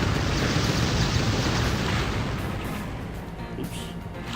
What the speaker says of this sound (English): The secondary fire on this thing are these twin rockets. They're actually really freaking powerful.